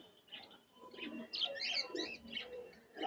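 Soft cooing of a Teddy pigeon at a large pigeon market in Khulna, a few low coos mixed with light chirps, quiet and close with no talking.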